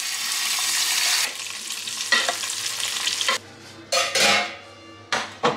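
A wild Atlantic turbot fillet fries in olive oil in a pan, with a loud steady sizzle that breaks off into clattering pan and utensil knocks and stirring scrapes as the fish is moved.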